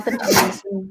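A single sharp sneeze bursts out during a livestreamed technical talk, loud and close, followed right after by a brief voiced tail.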